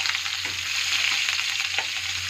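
Asafoetida, cumin and green chilli frying in hot oil in a pan, giving a steady close sizzle with faint stirring clinks underneath and no talk.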